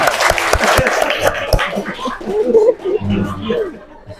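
Applause breaks out from an audience at a Maulid Nabi commemoration held at the Maros religious court, a dense patter of clapping over the first second and a half, then fading beneath a speaking voice.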